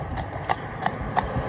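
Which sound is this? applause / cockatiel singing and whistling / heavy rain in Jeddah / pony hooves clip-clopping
pony hooves clip-clopping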